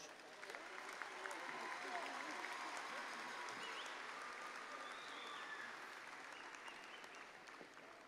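A large crowd applauds graduates at Angelo State University's 2018 spring commencement, sustained clapping heard from a distance that holds steady before easing slightly toward the end.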